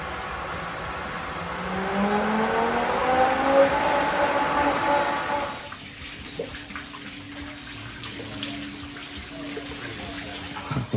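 Water pouring off rocks into a newly built pool, a broad rushing wash that swells and then drops to a quieter steady trickle partway through, with no talk.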